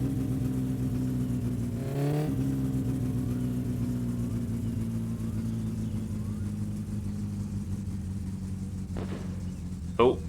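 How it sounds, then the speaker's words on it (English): A car engine in the driving game My Summer Car hums with a steady rumbling drone that rises briefly as it revs, then settles back to a long even tone, with short clicks near the end. "Beautiful engine sound."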